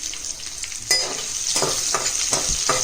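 Chopped onions fry in hot oil in a pan while being cooked light brown for chicken donne biryani. A continuous bright sizzle is heard up close, broken by several scraping stirs and no talk.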